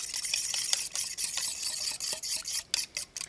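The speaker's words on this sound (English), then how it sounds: "And whisk that up with a fork." A fork whisks ingredients in a bowl for a corn and black bean salad, a quick scratchy rhythmic scraping of metal against the bowl, close and steady with brief pauses near the end.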